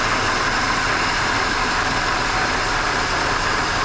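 A supercharged V6 in a Holden Commodore runs with a vibration fault, giving a steady, loud, dense idle rumble up close that holds unchanged throughout with no voices.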